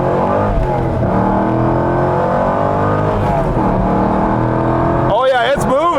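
A 2004 Chevrolet Corvette Z06 with a close-ratio gearbox accelerates hard through the gears, a loud, close engine roar climbing in pitch with brief dips at each shift, while someone talks over it.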